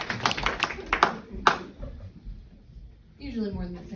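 A comedy show audience gives a few scattered claps in quick bursts, then quiets, before a voice speaks near the end.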